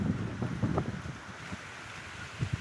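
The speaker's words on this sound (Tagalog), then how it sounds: "Mahangin dito guys." Wind blowing across a farm, buffeting the microphone in low rumbling gusts that rise and fall close up, with some faint rustling in the background.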